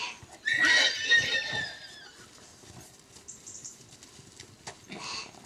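Horses playing and running loose in a paddock, one giving a loud, shrill whinny near the start, followed by softer snorts, shuffling hooves and rustling movement with another brief call near the end.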